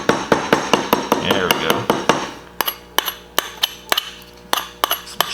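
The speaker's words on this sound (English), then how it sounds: "You can beat it with a hammer." A hammer pounds a foam axe prop to distress it, landing a rapid series of sharp, close knocks, about two per second. A faint scraping runs under the early strikes, and a voice speaks briefly.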